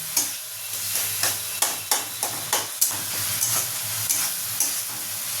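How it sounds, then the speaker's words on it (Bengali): Coriander and cumin masala sautéed in a pan hisses steadily up close, with regular scraping strokes of a spatula recurring about every third of a second. "ধনে জিরের কাঁচা গন্ধটাও যতক্ষণ না যায় আমি এটাকে কষতে থাকবো"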